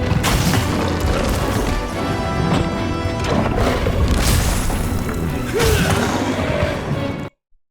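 Greatsword standard charge attack in Monster Hunter World lands amid loud, dense game noise: heavy booming impacts and crashes pile up over several seconds, with a few sharper hits standing out before everything cuts off abruptly.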